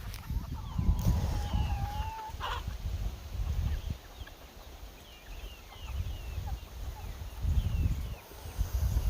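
Chickens clucking near a dog herding them, with a long drawn cluck early on and scattered softer clucks and calls over low rustling and thumps.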